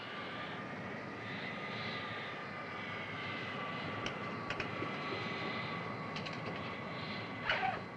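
An airplane taking off, its engines holding a steady droning roar at moderate distance with a faint rising whine, accompanied by a few light clicks and rattles toward the end, no speech.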